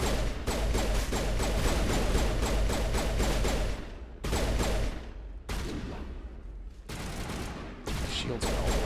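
Rapid gunfire in a shootout from the game Mass Effect, with sustained loud bursts broken by brief pauses and then resuming in repeated volleys.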